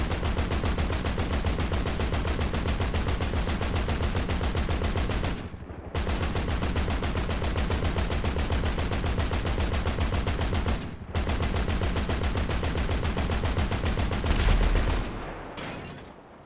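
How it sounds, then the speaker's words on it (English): The minigun on an Insurgent Pickup Custom in a video game fires in long continuous rattling bursts, a dense rapid stream of shots at full loudness broken by two brief pauses before trailing off at the end. "The minigun found on the Insurgent Pickup Custom is not very effective against most aircraft."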